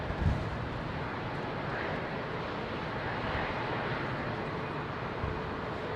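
An airliner departs London Heathrow, its jet engines producing a steady, broad roar that holds at an even level throughout, with no voices over it.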